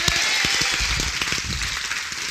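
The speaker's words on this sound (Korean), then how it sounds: "하나님께 영광의 박수 올리겠습니다" Congregation applauding during a church worship service, a dense steady wash of many hands clapping at close range, evenly sustained with scattered sharper claps standing out.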